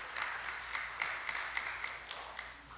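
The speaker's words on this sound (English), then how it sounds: "Let's give her one more round of applause" Applause from the audience at a school music academy spring recital, a steady patter of many hands with a few sharper claps standing out, moderately distant and fairly quiet, with no talking.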